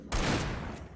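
A single loud gunshot booms up close in the Alan Wake video game, its sharp onset trailing off briefly with a faint second report near the end.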